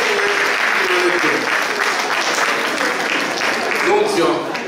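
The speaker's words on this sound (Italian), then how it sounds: "applauso" A hall audience at a calendar presentation event in Termoli applauds as guests are invited onstage, a loud, continuous roll of clapping from many people with some voices faintly underneath.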